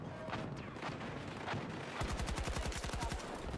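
Gunfire from an AK rifle in the video game Battlefield 2042: scattered shots and background battle noise, then a rapid, even burst of automatic fire, close and loud, with no speech.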